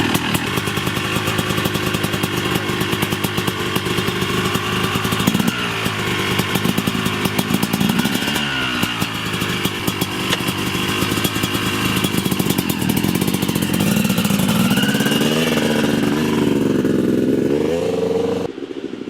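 A Yamaha YZ250 two-stroke dirt bike runs during engine break-in, ridden at varying speeds and gears on a road, its raspy, buzzing engine note rising and falling continuously as it revs through the gears.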